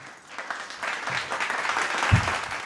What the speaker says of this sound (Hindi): आप सभी की तालियों के बीच में दीदी आइए